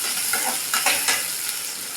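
Small onions sauté in a pan for idli upma, and a spoon stirs them now and then. A continuous hiss of frying sits under a few soft scraping strokes.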